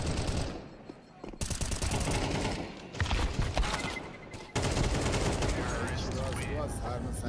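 Dense automatic gunfire and rapid shooting from the video game Counter-Strike during a professional match, busy and continuous with layered bursts, under an excited commentator's voice.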